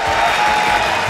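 An audience applauds an orchestra at a Rumeli Balkan music night, a steady, dense wash of clapping filling the room at full volume, with no gap or lull.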